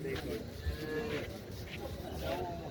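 A buffalo at the Mansa livestock market lows in a few drawn-out moos, set against the steady murmur and clatter of the busy market.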